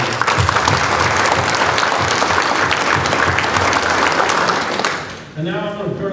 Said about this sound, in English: So a round of applause for them too.